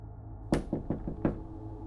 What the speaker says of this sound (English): there was a knock at his front door